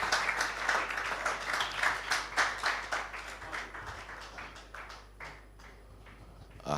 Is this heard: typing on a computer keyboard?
no